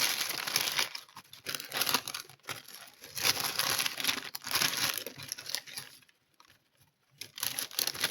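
A plastic bag crinkles and rustles up close as an item is packed into it, in several loud bursts with short quiet pauses between them.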